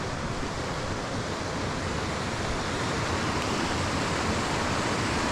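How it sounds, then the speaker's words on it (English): The water of Kershope Burn pours down into a big pool, making a constant, dense rushing roar that stays loud and even throughout, with no voices. "just listen to the water flowing down into this big puddle here"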